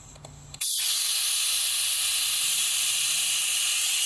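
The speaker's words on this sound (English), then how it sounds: "I'm going to take this little Milton valve here, and we're going to deflate this poor thing down to nothing" After a brief quiet moment, air begins hissing loudly and steadily from a small Milton valve as a Maxi Trac compressor tank deflates. The hiss holds constant with no talk.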